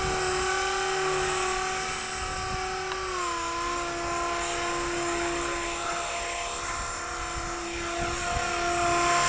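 A Blade 180 CFX RC helicopter whines steadily close by while coming in to land, its high rotor and motor tone dipping slightly in pitch partway through, then rising again at the end.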